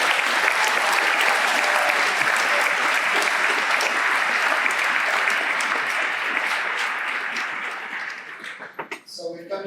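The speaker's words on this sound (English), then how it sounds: "Let's give one more round of applause to all of our award winners." Sustained applause for award winners at a school class day ceremony in 2024, dense clapping from a large audience that thins and trails off at the end.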